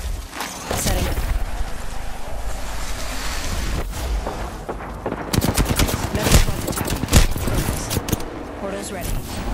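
Rapid automatic gunfire rattles in Apex Legends, with dense bursts and sharp shots, loud and close, continuing through the stretch alongside a voice speaking over the combat.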